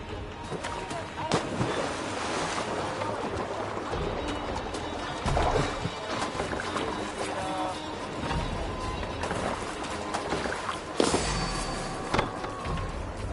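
A Viking longship under sail across rough waves in Assassin's Creed Valhalla, a dense, constant wash of water and wind that swells in a few sudden louder surges and thumps.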